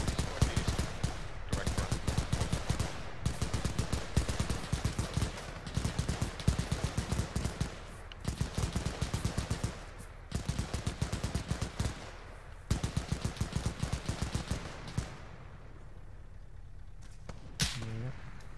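Gunshots in a video game, repeated bursts of rapid automatic fire with short pauses between volleys, loud and close, dropping away near the end before one last sharp crack.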